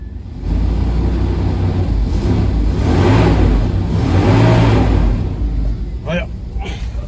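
Car engine with a freshly repaired muffler, idling and then revving up in two smooth swells, loud and close, with someone speaking over it.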